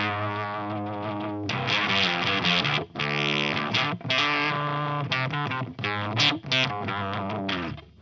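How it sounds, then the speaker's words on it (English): Loud, heavily distorted electric guitar through a TWA MiniMorph MM-01 dynamic waveshaper foldback distortion pedal, fuzzy and clipping, playing sustained chords with brief gaps between phrases. "You get this really loud pedal."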